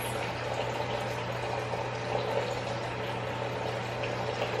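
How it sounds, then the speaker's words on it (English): A tap runs steadily in the background during a nighttime skincare routine, a faint, constant hiss with a low hum beneath it. "I apologize if you can hear the water running in the background"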